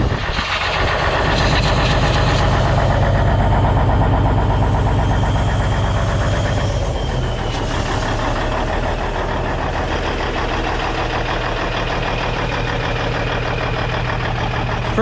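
Peterbilt 379 barn-find truck, moving under its own power for the first time in five years: a loud, rough diesel engine rumbling steadily and close by, with a brief rise in revs early on and no talk over it.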